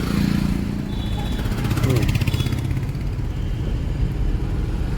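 A learner's car engine revs steadily as the accelerator is pressed during U-turn driving practice, a continuous loud rumble filling the clip while an instructor talks over it.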